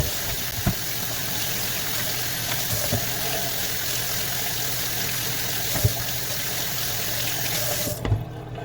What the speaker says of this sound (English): So the first thing I'm going to do is wash my potatoes.